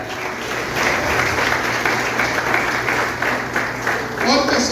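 A church congregation applauds during a family worship service, producing a dense, continuous wash of clapping with a voice coming through near the end.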